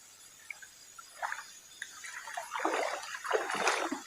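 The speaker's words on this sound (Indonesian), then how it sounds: "Sungainya begitu luas sampai ujung sana itu." River water splashing at night along a wide river, soft and faint at first, then growing into a run of irregular splashes and trickles toward the end.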